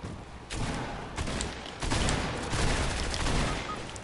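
Rapid gunfire in an online multiplayer shooter video game: loud, dense bursts of shots that keep going with little pause and grow heavier partway through.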